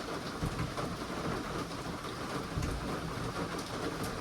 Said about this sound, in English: Would have been nice if we were doing this not in the torrential downpours, but we got it done before the thunderstorm